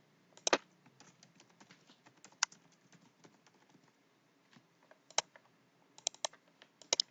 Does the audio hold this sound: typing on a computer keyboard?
yes